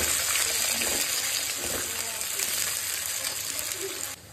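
Chopped onions fry in a pan for a meat dish, giving a steady, close sizzle with faint stirring.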